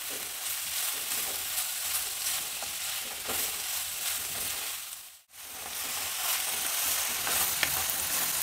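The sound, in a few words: vegetables stir-frying in pan for veg fried rice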